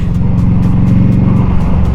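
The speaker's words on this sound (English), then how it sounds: "So we're going to downshift here to third gear, blind curve, a little bit of the front brake." A loud, close motorcycle engine rumbles steadily, its pitch dropping slightly as it downshifts to third gear with light front braking, with rhythmic pulsing in the exhaust note.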